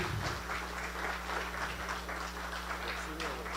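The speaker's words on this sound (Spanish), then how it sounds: "Denle un fuerte aplauso," An audience at a church talk applauds, a dense and steady wash of clapping that fills the whole short stretch at moderate loudness with no break.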